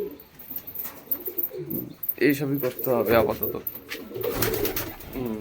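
Pigeons coo repeatedly and close by in a home setting, a steady throaty burble that keeps going while someone talks over it.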